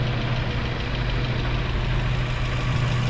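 A Mazda 3 idles close up with a rough, boat-like chugging, a continuous low throbbing rumble with a knocking texture, steady and loud with no voices.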